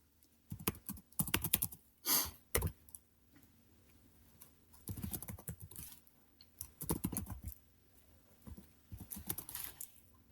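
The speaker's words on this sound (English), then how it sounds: "remember to type in the absolute path here" Typing on a computer keyboard, close and clear, coming in several irregular bursts of rapid key clicks with short pauses between them and no talk.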